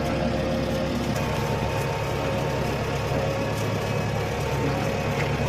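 A farm tractor working a sugarcane field idles and runs steadily close by, a continuous low engine drone with no speech over it.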